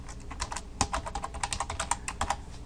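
Rapid typing on a computer keyboard while writing JavaScript, with irregular clusters of close, crisp key clicks and a few heavier keystrokes, no voices.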